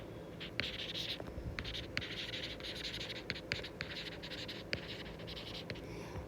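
A pen scratches across paper in short, quiet strokes and taps as numbers are written down by hand for an inventory calculation.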